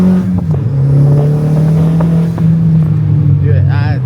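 Mk1 Audi TT with a catless full 3-inch exhaust holding a steady loud drone near redline, its pitch dipping slightly before easing off toward the end, with voices briefly over the engine.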